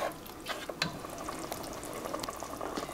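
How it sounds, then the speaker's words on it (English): Fish stew simmering in a pot, a faint, quiet bubbling and low hiss with a few soft clicks, steady and without voices. "You let this cook for about 5 to 6 minutes."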